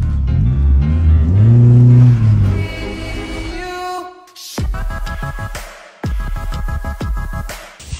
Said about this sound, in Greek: Σήμερα θα βγάλουμε ASMR αυτοκινητήσιους ήχους χρησιμοποιώντας ένα εξωτερικό μικρόφωνο και μια κάμερα.